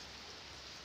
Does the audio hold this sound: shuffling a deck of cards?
no